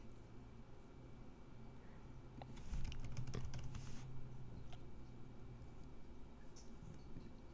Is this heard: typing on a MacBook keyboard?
yes